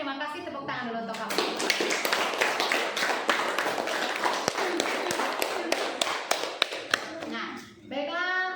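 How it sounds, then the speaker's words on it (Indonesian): Schoolchildren in a classroom clapping for a classmate, a steady run of sharp hand claps that carries on for several seconds, with someone speaking briefly at the start and end. "tepuk tangan dulu untuk kamu"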